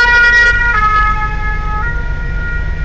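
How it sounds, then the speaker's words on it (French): Ambulance siren wailing loud and close on a snowy night street, a sustained tonal wail that shifts pitch over a rumbling traffic background. "Ah, une ambulance cette fois."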